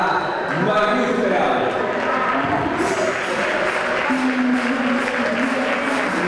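Spectators at a covered bowling alley in Sarón applauding two women bowling contestants: dense clapping mixed with loud crowd voices and chatter, sustained and close throughout.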